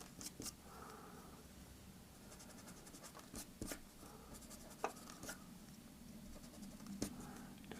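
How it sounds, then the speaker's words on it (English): A rubber eraser scrubs pencil lines off paper during a drawing of Homer's new ride, giving a close, dry scratching and rubbing broken into short bursts with a few sharper taps, with no talking. "Back in with the eraser and the unwanted lines,"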